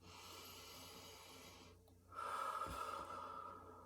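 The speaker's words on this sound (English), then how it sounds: "You can breathe out from the mouth if you want, or just from the nose." A slow, deliberate breath drawn in through the nose close to the mic, followed by a longer, steady exhale through the mouth or nose, with quiet room hiss around it.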